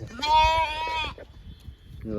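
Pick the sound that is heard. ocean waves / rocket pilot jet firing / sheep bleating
sheep bleating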